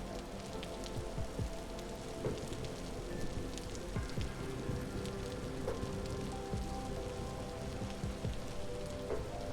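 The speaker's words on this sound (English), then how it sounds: "As I huddled in the corner of my earthen hut, I listened to the falling rain." Steady rain falls in the video game Vintage Story, heard from inside an earthen hut as a dense, even patter with scattered drips and taps, continuous and moderately soft, with no voices.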